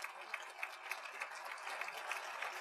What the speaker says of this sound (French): Les applaudissements, oui, vous pouvez les donner.